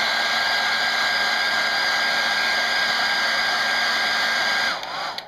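A handheld hair dryer blows steadily on a wet-on-wet watercolor fog painting, a loud, constant whirring hiss that runs for several seconds before switching off abruptly.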